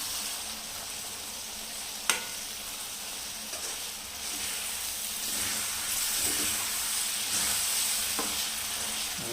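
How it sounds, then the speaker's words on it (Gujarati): Paneer bhurji being stirred in a pan after garam masala goes in, a steady sizzling fry hiss with occasional scrapes and knocks of the spoon against the pan, close and continuous with no talk. "મેં ગરમ મસાલો અંદર નાખી દીધો છે, એને બરાબર મિક્સ કરી લઈશું"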